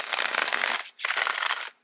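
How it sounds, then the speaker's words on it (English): Tarot cards are shuffled in two quick, close riffles, a crisp papery flutter that stops briefly between bursts, with no talk over it. "I can't talk while I shuffle"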